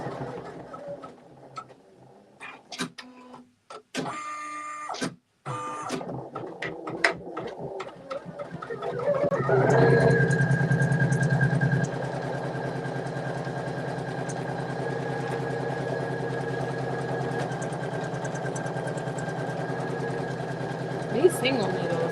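Single-needle embroidery machine stitching steadily, a continuous mechanical hum with fine rapid ticking that starts after several seconds of clattery handling noises and then runs on evenly and fairly close.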